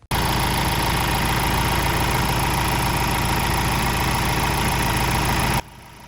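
A Euro 6 Ford Transit diesel van, repaired after fuel rail pressure faults, idles loudly and steadily up close with a slightly knocking rhythm, then abruptly drops to a quieter hum near the end.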